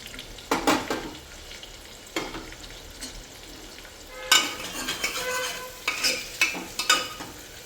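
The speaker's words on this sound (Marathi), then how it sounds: "त्यानंतर कांदा टाकून घ्यायचा आहे" Onion hits a hot pan and fries with a loud sizzle, spatula strokes scraping in uneven bursts as it is stirred for a chicken curry.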